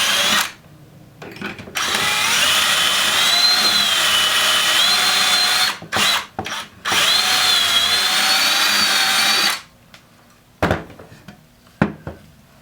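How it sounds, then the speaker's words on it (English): A power drill whirs steadily at high pitch drilling holes in wood for several seconds, pauses briefly in short bursts, then runs long again before stopping; close and loud. "Take the drill that comes with the set."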